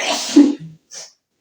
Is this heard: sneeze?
yes